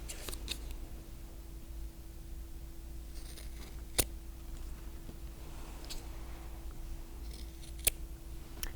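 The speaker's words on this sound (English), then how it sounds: "I like to trim the corners off of my bowl cozy" Scissors snip through the fabric corners of a sewn bowl cozy, producing quiet, sparse cuts with two sharper clicks, set against a steady low hum.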